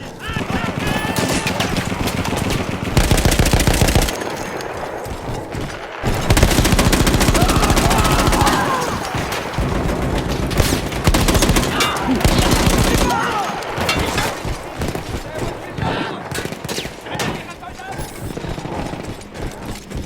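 Mounted gun in Battlefield firing long bursts, loud and close, broken by short pauses and scattered distant battle noise, with talk over parts of it.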